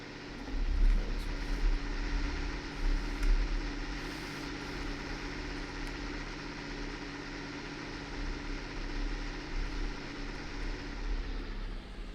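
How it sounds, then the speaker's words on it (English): Steady tractor engine drone from Farming Simulator 19, a continuous low rumble holding fairly even throughout, close and alone with no talk. "Tractor sounds so good."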